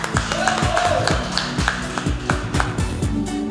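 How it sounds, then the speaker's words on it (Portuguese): A church audience claps to thank God for the life of an apostle, steady rhythmic applause at moderate loudness that carries on through the whole stretch. "Vamos aplaudir a Deus pela vida dele."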